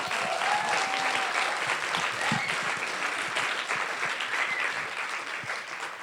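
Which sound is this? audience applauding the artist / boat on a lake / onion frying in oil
audience applauding the artist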